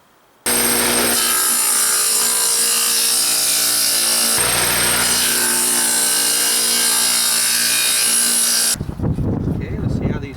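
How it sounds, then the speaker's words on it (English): A table saw fitted with a 3/8-inch-wide dado blade set 5/8 inch deep cuts into wood, its loud steady whine running for about eight seconds before spinning down, with a short gap in the middle. "I got my dado blade set up at 5/8 depth and 3/8 width"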